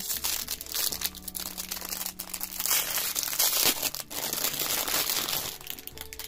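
Continuous loud crinkling and rustling of packaging as a parcel of crystals is unwrapped, close up, with crisp crackles and scrunches going on steadily for several seconds and no voice over it.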